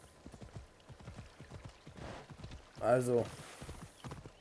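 Horse hooves clip-clopping at a steady pace while riding in Assassin's Creed Odyssey, rhythmic and fairly close, with a brief louder snort or whinny-like burst midway and a voice speaking over it.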